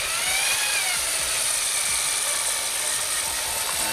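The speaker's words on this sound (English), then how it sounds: "go along the bottom with the drill brush." A drill with a brush attachment whirs steadily at close range, stirring ceramic glaze, a continuous high mechanical whine with a slight rising pitch early on, no voices.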